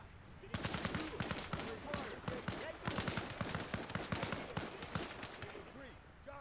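Loud gunfire in a video game, rapid irregular bursts of shots with echoing tails that continue throughout, with voices shouting over the firing.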